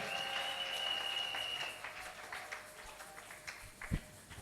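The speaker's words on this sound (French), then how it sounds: "On acclame alors très fort pour la parole de Dieu." A church congregation breaks into loud, sustained applause for the word of God during a sermon, a dense wash of clapping that rises, holds, then thins out over several seconds.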